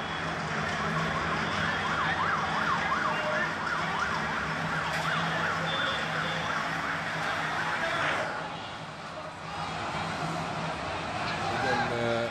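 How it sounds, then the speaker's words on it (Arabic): An ambulance siren wails in repeated rising and falling sweeps through a busy street in central Baghdad, heading toward Khilani Square amid crowd noise and traffic, then fades. "كما استمعنا إلى صوت سيارات الإسعاف أو سيارة الإسعاف تتجه إلى ساحة الخلاني وسط بغداد"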